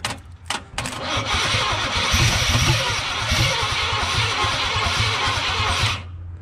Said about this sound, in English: Mash the gas, Nick.